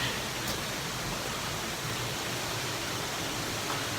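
A waterfall at Silver Falls State Park in Oregon sends out a dense, continuous roar of rushing water and spray, loud and close with no pauses.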